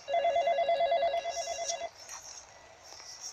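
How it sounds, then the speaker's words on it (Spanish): A telephone rings in the horror video game The Dark Internet, a trilling electronic bell repeating rapidly for about two seconds before cutting off, leaving a faint hiss and soft noises. "El teléfono."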